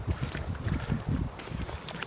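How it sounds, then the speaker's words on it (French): Wind gusts buffet the microphone on a bike path near home during a summer walk, producing uneven low rumbling bursts, with faint footsteps beneath. "Je sais pas si vous allez nous entendre ben parce qu'il y a du vent."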